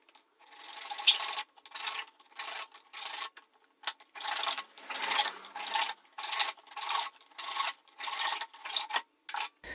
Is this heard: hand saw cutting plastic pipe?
yes